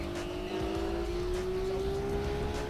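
Race car engines in the Gran Turismo 4 video game on a wet Tsukuba circuit, with a Saleen S7 racing a Honda: a continuous high engine whine that climbs slowly in pitch, steady and fairly loud with no break.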